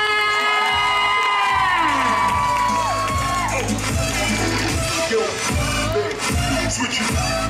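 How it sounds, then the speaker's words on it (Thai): A crowd at a prize-giving game event cheers and squeals for Khun Nam, opening with a long high-pitched collective scream that gives way to steady shouting and clapping throughout. "ตอนนี้ขอเสียงปรบมือให้กับคุณน้ำด้วยค่ะ"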